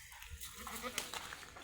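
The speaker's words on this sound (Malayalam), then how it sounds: "ഒരു പ്രസവം കഴിഞ്ഞൊരു പെണ്ണാട്." A female goat that has kidded once bleats faintly in an outdoor livestock setting. The call is brief and sits low in steady background noise.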